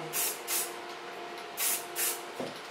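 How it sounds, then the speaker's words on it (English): Lanza volume line hairspray is sprayed on hair in four short, close hissing bursts, with a faint fifth puff at the end and quiet gaps between. "take in the volume line hairspray. This product of Lanza."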